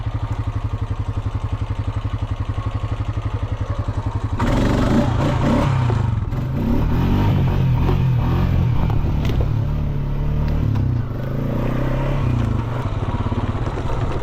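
A Honda Rancher 420 ATV idles with a steady thumping beat, then the engine jumps to a louder, rougher rev as the front lifts into a wheelie, holding and dipping for several seconds close by.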